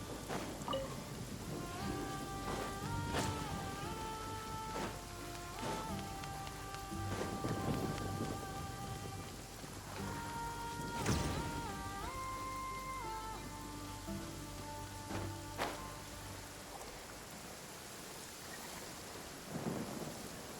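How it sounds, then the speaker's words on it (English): Steady rain and rolling thunder fill a rainy scene in the video game Genshin Impact, with several loud thunder cracks breaking through the constant downpour while soft background music plays beneath. "I like the rain."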